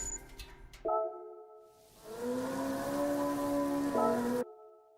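Rain in Gran Turismo 7 at Le Mans: a steady broadband hiss of falling rain fills the middle of the clip beneath a droning car engine whose pitch shifts, then cuts off abruptly near the end. No one talks.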